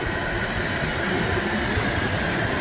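A Norfolk Southern ethanol tanker train rolls past close by, giving a steady, loud rumble of wagons mixed with wind noise and no break throughout.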